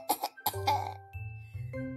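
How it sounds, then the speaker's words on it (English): Several harsh, breathy coughs in quick succession, close and clear, followed by low sustained vocal tones with a light chime-like ring. "Tsuro cried and coughed"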